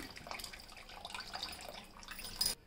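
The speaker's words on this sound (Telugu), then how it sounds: "ఇందులో కొన్ని వాటర్ పోసుకుందాం." Water poured into a cooking pot while making a Hyderabadi stuffed brinjal masala curry, a steady splashing trickle that runs throughout and briefly swells louder just before it stops.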